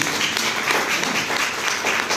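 An audience at a Hindi talk claps loudly and continuously, a thick close burst of many hands with slight swells, lasting about two seconds and free of speech.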